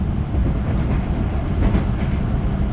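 A Majapahit economy-class train running on rails after leaving Karawang station, heard from inside as a steady loud rumble with faint rhythmic clatter from the wheels and no talk.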